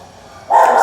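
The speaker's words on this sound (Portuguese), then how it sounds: "Vamos esperar o cachorro latir." A dog barks loudly and close by, one sharp burst of barking after a quieter stretch of low room noise.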